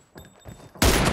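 Gunfire in the mobile battle-royale game PUBG Mobile, with a few soft clicks and then a loud, sudden burst of shots near the end.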